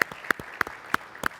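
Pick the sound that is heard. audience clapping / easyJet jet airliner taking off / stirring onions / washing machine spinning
audience clapping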